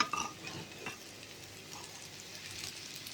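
Elephant foot yam curry frying in a pan, with a steady soft sizzle and a few stirring scrapes near the start, continuing evenly and close by with no talk.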